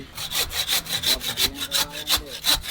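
A large fish is cut on a boat in Sri Lanka, with steady back-and-forth sawing strokes, roughly eight to ten rhythmic rasps, close and fairly loud with no talking.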